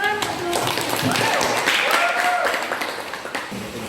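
Classroom clapping after a poetry reading, a busy patter of many hands with children's voices mixed in, fading toward scattered claps at the end.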